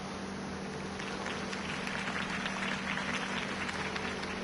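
A crowd applauds at a political campaign rally after a speech in the Batman Telltale video game, a fairly faint, steady wash of clapping with no voices over it.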